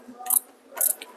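A surgical ratchet driver turning a spinal screw at the L5 level during a neurosurgery workshop gives two short bursts of quick ratcheting clicks, close and fairly soft, with no talk over them.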